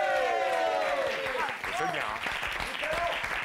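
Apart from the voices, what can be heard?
studio audience applause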